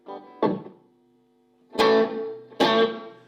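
Blackstar Silverline electric guitar amplifier: chords struck through it, three separate strums ringing briefly before fading, with a short, tight reverb tail and no voices.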